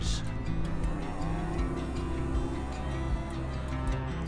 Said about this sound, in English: cattle traffic jams